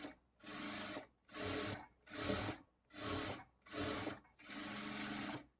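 A sewing machine stitches a blouse seam in five short bursts of fast whirring, each run stopping and starting again with brief pauses between, close and clear.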